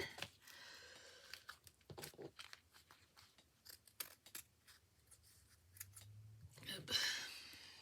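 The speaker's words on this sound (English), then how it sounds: "This needs to be trimmed a bit more because, well, I don't like how it's sticking there." Scissors trim the paper cover of an Alice in Wonderland themed handmade journal, giving a run of small, close, crisp snips and paper rustles at moderate volume, with a faint voice now and then.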